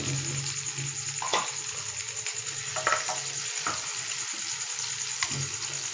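Garlic, cumin and onion sizzle steadily in a hot pan, with a constant crackling hiss and occasional scraping stirs, close by and without talking.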